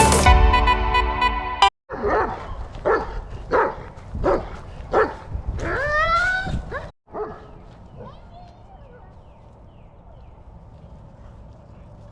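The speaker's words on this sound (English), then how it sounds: "a German Shepherd is a very high maintenance dog" A German Shepherd whimpers and barks near a swimming spot, giving a run of sharp, evenly spaced barks and rising whines before the sound settles into quieter background noise.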